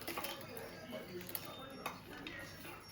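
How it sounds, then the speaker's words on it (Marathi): Peanuts tipped into a mixer grinder jar for Maharashtrian mirchi thecha make a faint, brief scattered rattle of small hard pieces, under a person talking. "शेंगदाणा टाकून घेईन,"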